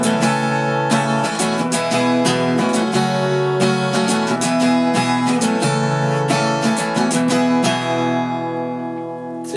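Acoustic guitar strumming full chords through a popular song, steady and close with a bright, sustained ring and regular strum accents, played alone without any voice.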